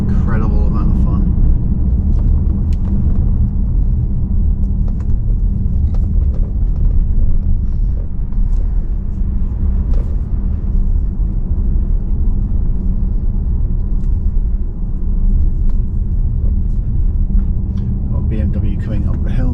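A rear-wheel-drive car with 286 bhp climbs a hill on the Hartside pass, its engine a steady, loud, low rumble that carries on without a break from inside the car.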